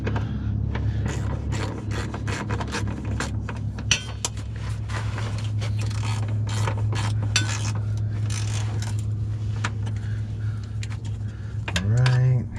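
A ratchet tightens the transmission mount on a 2002 Mercedes C230 Kompressor W203 sport coupe, giving rapid clicking bursts with metallic clinks beneath a steady low hum, close and fairly loud, with a brief tonal sweep near the end.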